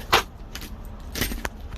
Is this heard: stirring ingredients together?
no